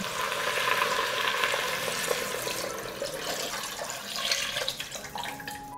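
Water poured into a pot where chicken fillet and softened vegetables are frying, giving a steady close sizzle and hiss with rushing liquid that swells and eases throughout.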